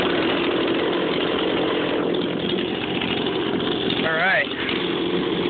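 A grandparents' leaf blower engine runs after a cold start with the choke off, giving a loud, steady, close droning idle throughout, with a short spoken remark near the end.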